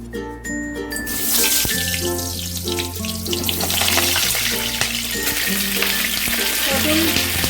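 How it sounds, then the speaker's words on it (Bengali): Pointed gourd (potol) pieces sizzle steadily in hot sunflower oil, a continuous frying hiss running beneath prominent background music throughout. "দেখো তেলটা ভালো গরম হয়ে গেছে এবার আমি পটলগুলোকে ভেজে নিই"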